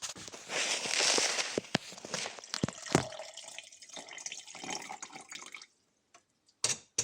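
Fairly hot water is poured into a mug holding crushed vegetable bouillon and miso paste, giving a close, bubbling pour with a few splashes and clinks before stopping.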